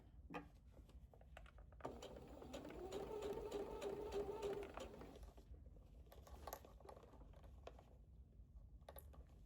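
A sewing machine stitching a curved seam on a wrap dress runs in a faint, quiet burst of rapid mechanical clatter for a few seconds, then stops, leaving small scattered taps and handling noises.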